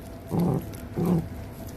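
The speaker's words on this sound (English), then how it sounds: "petting a growling puppy is not rewarding it" A puppy growls at its food bowl during aggression training, two short, low, throaty rumbles with a brief pause between them, close and fairly loud, with no talking.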